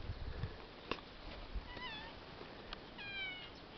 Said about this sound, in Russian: кот он пришел